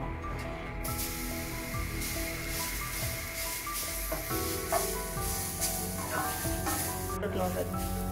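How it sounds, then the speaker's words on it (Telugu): Grated beetroot fries in a pan with roasted semolina for laddu, giving a steady, soft sizzle and hiss with occasional stirring scrapes, moderately quiet throughout. "ఇప్పుడు మనము బీట్రూట్ తిప్పి వేసుకుందాం."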